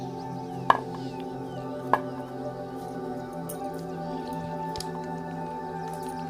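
Sago dough being kneaded by hand with a little water gives soft, wet squishes and a couple of sharp slaps, fairly faint against steady background music.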